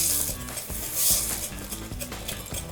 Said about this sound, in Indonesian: sambil kita aduk gini, kita masukin butternya tadi